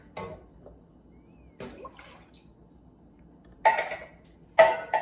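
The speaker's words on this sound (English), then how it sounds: "6 cups of water." Water poured into a pot for butternut squash soup, several short splashing bursts separated by quiet gaps, the last two louder and closer.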